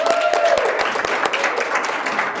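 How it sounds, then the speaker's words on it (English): Audience applause at a Women of Achievement awards ceremony, a steady wash of many hands clapping filling the room, fairly close and even, with a faint tone sliding through at the start. "Another round of applause for Alexis Dan"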